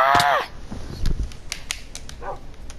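A dog gives a single loud bark up close at the start, then a few fainter, shorter barks and yips follow against a quiet background.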